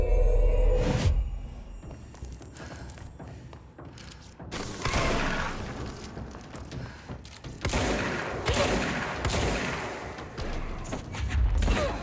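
Gunfire and impacts in the video game Control, with bursts of shots, thuds and whooshing blasts coming in clusters over a dense, loud background of combat noise.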